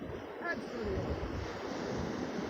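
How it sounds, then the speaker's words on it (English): Ocean waves wash and roll in a soft, steady surge, with a breezy rush of wind across the shore. "And the sound of the waves."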